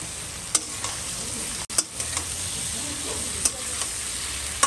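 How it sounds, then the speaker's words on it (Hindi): Potatoes and chopped pointed gourd stir-fried in hot oil for aloo parwal bhaji, giving a steady sizzle with a few sharp scrapes and clacks of a spatula against the pan, close and without talk. "आलू और भाजी को हम 1 मिनट तक भून लेंगे।"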